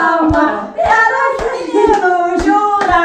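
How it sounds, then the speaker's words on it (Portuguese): Family members at a child's birthday in a restaurant in Portugal clap in a steady rhythm, sharp hand claps about every half second, while voices sing or call out over them close by. "Uma salva de palmas."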